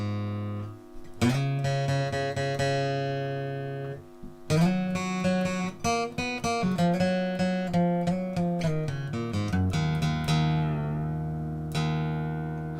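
An acoustic guitar is tuned to drop D, with strings plucked and left ringing, notes sliding in pitch, a few strums and chords sounding alone at moderate volume.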